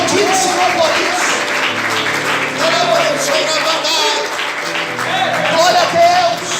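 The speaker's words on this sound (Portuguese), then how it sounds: "Será que você pode aplaudir o Senhor por isso?" A church congregation claps during a sermon, steady applause running throughout, while a sustained musical tone and a voice carry on over it.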